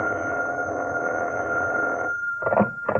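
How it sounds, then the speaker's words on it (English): An old-time radio drama telephone rings with a steady electric bell tone held for about two seconds, then breaks into short repeated bursts of ringing, fairly close and clear with no voices. "my telephone rang"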